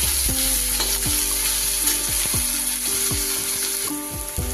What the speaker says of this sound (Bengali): পেঁয়াজটা ভালো করে ভেজে নেব লাল করে।